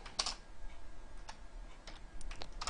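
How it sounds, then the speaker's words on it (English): Light typing on a computer keyboard while entering program code, sparse quiet key clicks in small clusters over a faint background hiss, with no talking. "Whew, that was a lot of typing."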